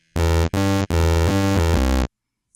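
Synthesized 16-bit style tone with lowered pitch, sounding as three sustained buzzy harmonic notes in quick succession, the last one longest, loud and clean with no talk.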